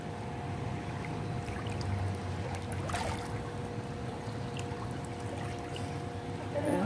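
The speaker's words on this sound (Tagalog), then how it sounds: "Bumuga yung tubig," Water gushes into a wide outdoor swimming pool as it is refilled, a steady broadband rushing and splashing that holds level throughout, with faint voices in the background.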